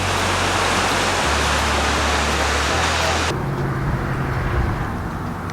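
Broad, steady roar of ocean surf on a big sandy beach where the Elwha River meets the sea, loud and continuous with a sudden change in tone partway through and no distinct individual waves.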